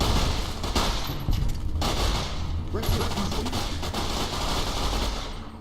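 A Vz61 Scorpion submachine gun fires in Fallout: New Vegas in loud, rapid automatic bursts of booming shots that run nearly nonstop, with a voice talking over the gunfire.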